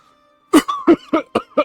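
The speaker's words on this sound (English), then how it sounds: "Well, I'm coughing." Five quick coughs in a short rapid burst after a moment of near silence, close and fairly loud, with a faint steady tone in the background from the game Europa Universalis 4.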